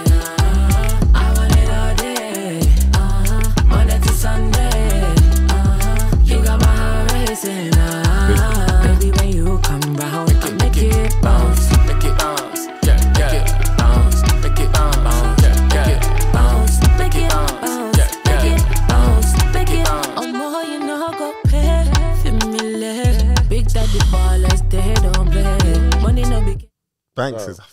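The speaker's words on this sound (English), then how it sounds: "it's that Afro dancehall fusion" A full, loud Afro dancehall fusion track with a steady bouncing beat and heavy bass runs throughout, then cuts off abruptly near the end.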